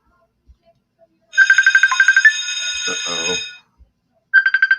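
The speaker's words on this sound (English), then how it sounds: "A bell." A telephone ringtone bell rings loudly in bursts, a rapid trilling pattern that pauses while a person speaks briefly, then starts ringing again.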